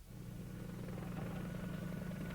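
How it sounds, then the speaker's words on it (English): Apache attack helicopters flying out of a desert forward base during the Gulf War, a steady low rotor and engine drone that holds at an even level throughout, with no voices. "Operating out of Cobra Base, Apache attack helicopters swarmed forward"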